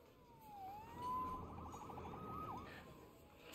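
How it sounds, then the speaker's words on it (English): Police siren wailing faintly in the city of the video game Marvel's Spider-Man, rising and falling under low background noise and muffled talk. "Saved by the siren."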